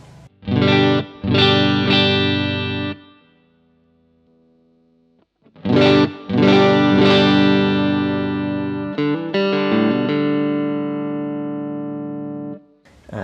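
Electric guitar through an MXR CAE boost/overdrive pedal, chords ringing out with a bright, overdriven tone, strummed in bursts with a brief quiet gap before more sustained chords.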